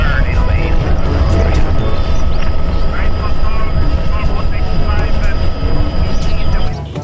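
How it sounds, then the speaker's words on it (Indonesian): A toy speedboat's motor whirs loudly and steadily for about seven seconds before cutting off near the end. "ini speedboat, teman"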